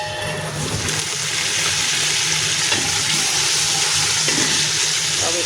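Fenugreek seeds and curry leaves crackling in hot oil for sambar, a loud, steady, close sizzle with a few faint pops throughout.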